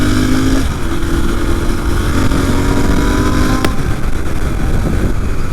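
A Royal Enfield Continental GT650 twin motorcycle accelerating, its engine a loud, steady drone heard close up, with rushing wind and a short sharp click partway through.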